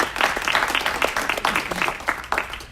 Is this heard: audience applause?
yes